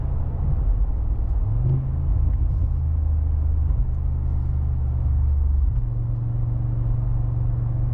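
A 2025 Mercedes-AMG G63 V8 SUV in Sport Plus suspension mode carves through corners, its engine a steady, loud low rumble with slight swells in pitch as it drives on, no voices.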